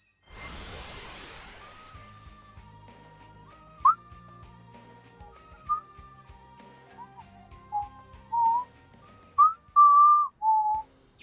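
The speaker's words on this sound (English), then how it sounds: "Surprised it catches whistling" A person whistles a slow, wavering melody of sustained notes, close and clear, growing louder toward the end, after a brief whoosh of noise at the start.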